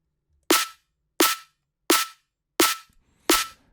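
Five sharp, roomy pings from a resonant Serum synth layer built from two sine waves, evenly spaced about 0.7 seconds apart, each with a bright snappy attack and a short ringing decay, alone with no talk.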